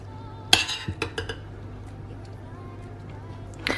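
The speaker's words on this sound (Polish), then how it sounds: "Zaczynamy od wyłożenia owoców na dno." Fruit laid into the bottom of a heatproof baking dish for a baked oat-crumble dessert, with a few clinks and knocks of the dish near the start and a bump at the end, under a steady background hum.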